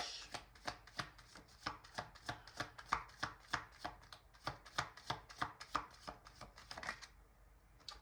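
Oracle cards are shuffled with a rapid run of crisp, rhythmic slaps and flutters, close and quiet, going on steadily for several seconds before ending.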